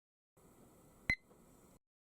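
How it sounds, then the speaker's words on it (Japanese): A timer gives a single short electronic beep as it starts during a soda-glass flameworking session, a brief clear tone over a faint steady background hiss. "タイマーがスタートしました。"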